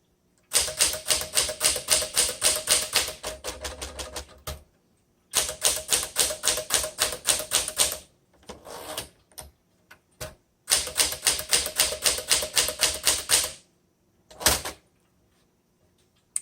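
A 1962 Smith Corona Sterling manual typewriter in Alpine Blue being typed on in three close, loud bursts of rapid key strikes, each followed by a carriage return or bell and short pauses with scattered single clacks.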